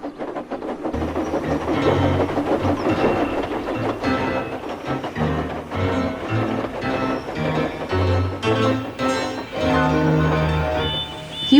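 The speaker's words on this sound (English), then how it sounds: "Soon Winston came along to collect his coaches. He had trouble building up steam" A steam train rumbles along steadily, with a continuous mechanical chugging and clatter that holds at a fairly loud level throughout.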